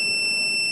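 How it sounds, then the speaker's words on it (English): A contestant rings an answer bell at a school quiz competition, a steady electronic buzzer-like tone held throughout, loud and alone with no talk. "You do that by ringing your bell."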